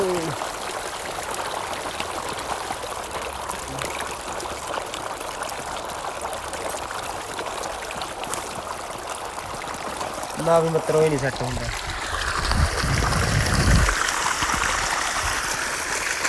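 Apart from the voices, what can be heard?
flowing water stream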